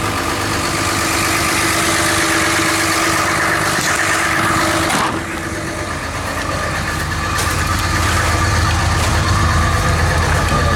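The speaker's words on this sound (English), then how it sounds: "Idling kind of high." A Cummins diesel engine idles high with a steady low rumble and vibration close by, holding constant apart from a brief dip in the middle.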